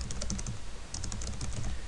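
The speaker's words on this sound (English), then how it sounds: "type our title, hit enter just one more time" Typing on a computer keyboard while formatting a document in Word 2007, with rapid, close clicking keystrokes in two quick bursts over steady background noise.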